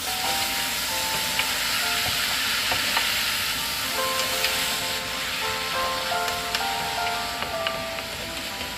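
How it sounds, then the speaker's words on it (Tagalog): Jackfruit and pork being stirred in a hot pan for ginataang langka, with a steady sizzle of frying under scraping and stirring sounds, close and continuous with no talk. "pwede nang ilagay ang langka at haluin ng mabuti bago ito takpan"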